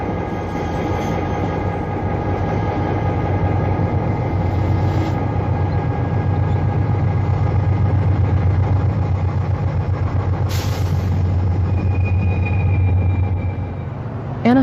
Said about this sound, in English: Amtrak train 783 arrives at Fullerton Station early in the evening